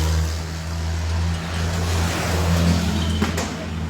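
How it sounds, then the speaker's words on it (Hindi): A tractor's engine drones steadily at close range as the machine is turned and driven off amid a clash between farmers and police at ITO in Delhi, with the low rumble holding throughout. "दोबारा से ट्रैक्टर मोड़ के ले जा रहे हैं।"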